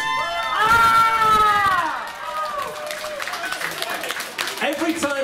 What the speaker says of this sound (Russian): If you scream and shout and clap at the end of each song, very loudly.